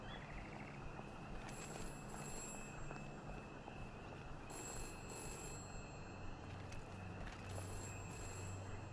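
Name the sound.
telephone ringing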